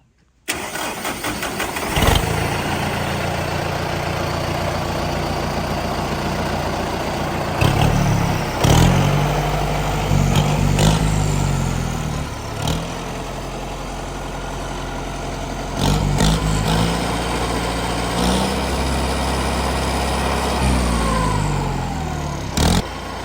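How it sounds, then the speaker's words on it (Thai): A tractor engine with a fault where the steering turns heavy and the rear plough will not lift starts almost immediately and keeps idling loudly nearby for over twenty seconds, with occasional shifts in pitch and a few clanks. "ให้เรามาสตาร์ทเครื่อง แล้วก็ตั้งไว้สักแป๊บนะทุกคนเพื่อให้น้ำมันมันเข้าระบบนะครับ"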